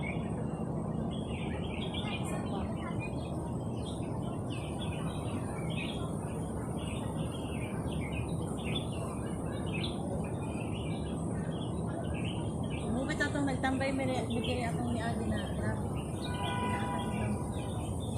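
Birds chirp and tweet in a park, a scatter of small calls sitting faintly over a steady wash of outdoor background noise, with no talk.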